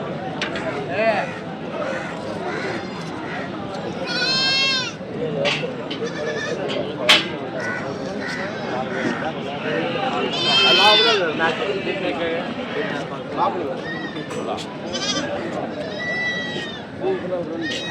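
Several goats and sheep bleat repeatedly at a livestock market, some close and loud, others farther off, amid a busy pen with people talking throughout.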